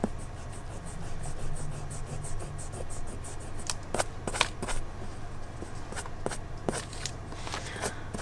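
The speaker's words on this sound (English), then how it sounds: "Let's try the Staedtler one here. I'm going to erase the rest of this line." A Staedtler eraser rubs across a pencil line on paper, giving a run of soft, close scratchy strokes with sharper brushing bursts toward the end, fairly quiet and steady, with no talking.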